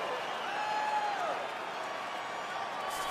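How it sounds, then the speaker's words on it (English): Crowd at a women's UFC championship bout roaring and applauding in a steady wash of cheering, loud and continuous, with a few whistles riding above the noise. "Crowd going crazy."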